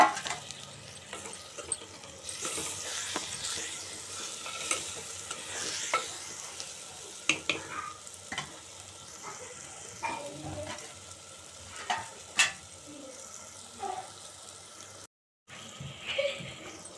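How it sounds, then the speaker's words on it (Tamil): Potatoes sizzle in a hot pan while a utensil scrapes and stirs them in repeated strokes, close by with no talking. "இப்போ கட் பண்ணி வச்சுருந்த உருளைக்கிழங்கையும் போட்டு நல்லா கலந்துருவோம்"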